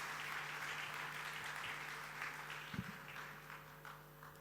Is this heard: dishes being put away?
no